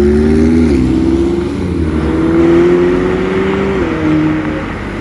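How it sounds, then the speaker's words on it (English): A blue McLaren 720S pulls away with a loud, strained engine roar that climbs in pitch, shifts and climbs again, heard nearby on the street. "Catch the 720S leaving."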